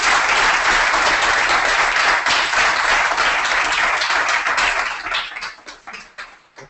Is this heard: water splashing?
no